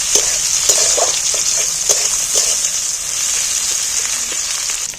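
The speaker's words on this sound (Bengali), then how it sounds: "পেঁয়াজগুলো দিয়ে দিন পেঁয়াজটা একটু তেলের মধ্যে ভালো করে ভেজে নেব" Sliced onions frying in hot oil in a pan, a continuous bright sizzle with occasional stirring clicks and scrapes, close and steady with no talking.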